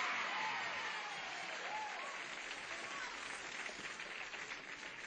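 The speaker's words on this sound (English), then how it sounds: "I notice that it is all girls who are applauding." A 1970s game show studio audience applauds steadily throughout, a dense, even wash of clapping heard from a distance at moderate level, with faint voices beneath.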